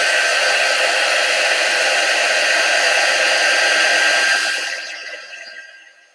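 A hair dryer blows steadily on chalk paste as a close, loud, even whoosh that fades and cuts off near the end, with no voices.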